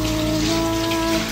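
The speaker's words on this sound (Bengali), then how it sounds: "এখন আমি ভালো করে আমার হাতটা ক্লিন করে নিচ্ছি।" Running water splashes steadily from a tap over hands being washed, a close, continuous hiss with no talk.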